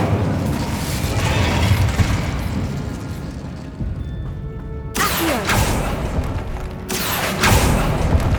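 Two loud, booming fire-spell blasts from Incendio in Hogwarts Legacy, each erupting suddenly and rolling out over a dense, rumbling game soundscape.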